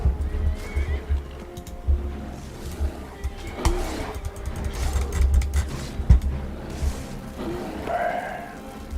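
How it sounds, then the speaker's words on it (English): Horse neighing in a video game, a whinny rising near the end over a busy game soundscape with muffled hoof clip-clops and low rumbling, no talking. "Don't kill a horsey."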